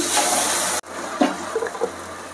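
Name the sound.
water poured into a cooking pot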